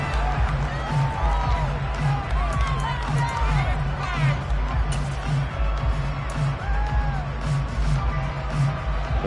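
A stadium crowd in an American football video game, Texans at Titans late in the fourth quarter, gives a steady loud cheering roar with whoops under continuous commentary.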